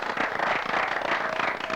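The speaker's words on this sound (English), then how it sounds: "Let's have a round of applause." A studio audience at a 1991 quiz-bowl game show gives a brief, loud, dense burst of clapping, continuous throughout.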